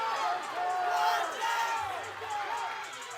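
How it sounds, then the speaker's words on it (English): A crowd at a men's NCAA gymnastics meet screams and cheers loudly and continuously, with rising and falling whoops across the arena. "And everyone's screaming in this background."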